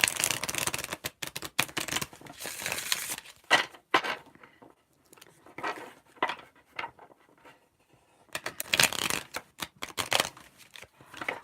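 Tarot cards are riffle shuffled by hand in repeated close, crisp bursts of fluttering patter separated by short pauses, with no talking.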